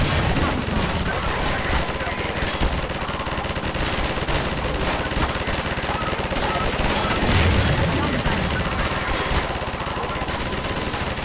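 Continuous rapid gunfire from a weapon in the video game Half-Life 2, dense and loud throughout with a heavier burst near the middle, under a busy game mix.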